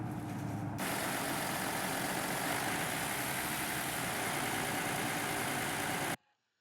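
Scania OmniDekka bus engine in the OMSI 2 simulator labouring up a very steep hill, a steady loud droning rumble that holds for about six seconds before cutting off abruptly.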